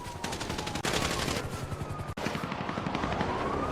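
Gunfire in a shooting video game during a team battle, a dense, continuous rattle of rapid automatic shots with booming blasts, loud and steady throughout with a couple of short gaps.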